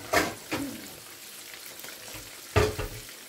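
Food frying in oil in a pan, with bursts of spattering sizzle that come in a few loud pops and crackles separated by quieter frying hiss.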